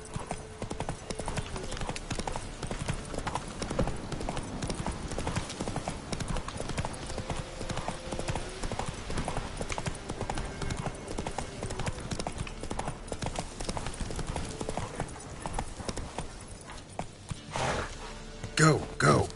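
Roach, a horse in a video game, trots along with steady, continuous clip-clopping hooves in the foreground, and a brief whinny can be heard near the end.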